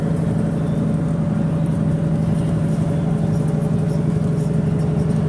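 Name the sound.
van driving fast on the highway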